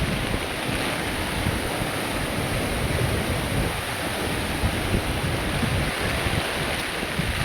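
A roaring, steady rush of strong typhoon wind over a flooded, overflowing river at 6 a.m., broadband and constant, with gusty buffeting against the microphone.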